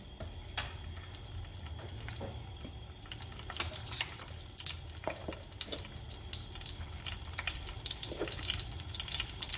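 Eggplant pieces sprinkled with cornflour frying in a pan, a faint continuous sizzle with scattered small crackles and pops against a low steady hum.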